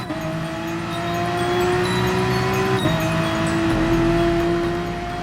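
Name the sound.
race cars driving in Gran Turismo Sport video game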